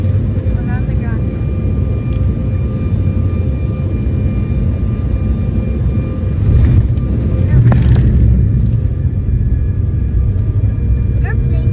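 Embraer ERJ-175 jet rolling on the runway after landing, a steady loud low engine and cabin rumble throughout with a brief surge of reverse thrust partway, while people talk over it.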